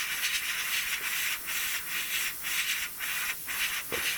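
Airbrush or spray paint hissing onto a P-51B Mustang model kit, a light coat laid down in a series of short bursts with brief gaps between them, close and steady.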